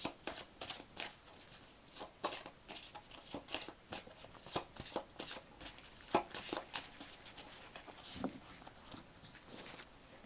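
Gaia oracle cards being shuffled by hand in a quiet room, a steady run of crisp riffling and flicking bursts repeating for about ten seconds, close up with no talking.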